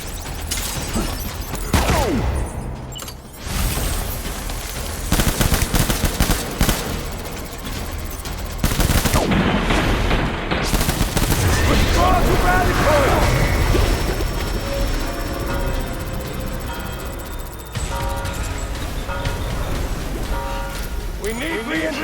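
Heavy gunfire and explosive crashes in the video game Death Stranding, with dense bursts of shots and impacts over a loud, continuous battle din, while voices shout over the action.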